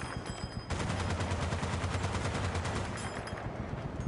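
Sustained machine gun fire rattles in rapid, dense bursts while trees are mowed down in Battlefield: Bad Company 2 multiplayer, loud and continuous for several seconds after a brief quieter lead-in.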